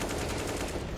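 Rapid burst of gunfire during a professional Counter-Strike match on the Ancient map, dense and loud, filling the whole second without any voices.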